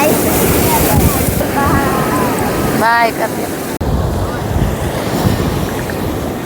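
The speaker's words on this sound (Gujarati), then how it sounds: "તો આપણે અહીં દરિયા આવી ગયા" Sea waves surge onto the shore at Okha, and strong wind buffets the microphone, so the surf comes through as a dense, continuous roar. People's voices are audible now and then.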